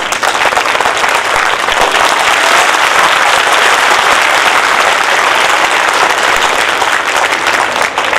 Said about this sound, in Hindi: सैनिकों के लिए इतनी हल्की तालियां नहीं।